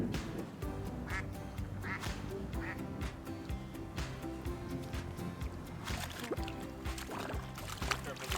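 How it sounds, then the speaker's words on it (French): Large waterbirds at Tommy Thompson Park in Toronto quack and call repeatedly close by. The calls come in irregular bursts over steady outdoor background noise and faint water sounds. A person whispers quietly throughout. "Ils sont des oiseaux énormes"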